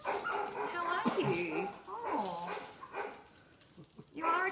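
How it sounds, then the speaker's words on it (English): A dog greets people with excited whimpers, yips and short barks, up close and mixed with overlapping friendly human talk. "It looks like she's quite a social dog, isn't she?"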